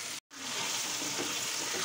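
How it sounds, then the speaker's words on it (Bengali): Chicken sautés in a pan with a dense, close, hissing sizzle that cuts out for a split second near the start, then continues evenly. "এখন আমি দিয়ে দিচ্ছি চিকেনটা, চিকেনটাকে ভালো করে কষিয়ে নেব।"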